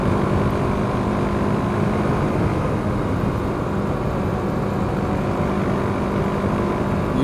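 A BMW G310GS motorcycle engine, fanned on the throttle through a corner, holds a steady, loud mid-pitched drone mixed with wind rush for several seconds.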